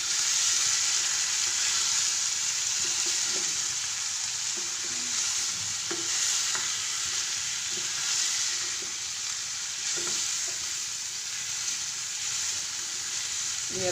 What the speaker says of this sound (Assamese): এতিয়া মই ইয়াতে মৰিচাখিনি দি দিম।